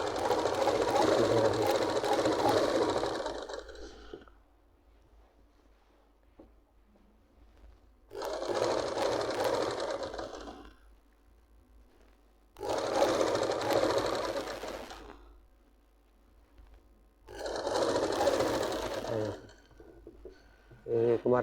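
A sewing machine stitches palazzo pants in four separate runs of steady whirring, each lasting a few seconds with quiet gaps between them.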